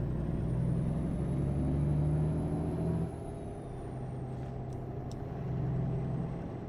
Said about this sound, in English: the jake brake's not very loud in this thing